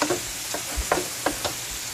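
Beef frying in a pan, with soft sizzling under repeated stirring scrapes, a few distinct spoon strokes spaced through the moment, fairly quiet and close.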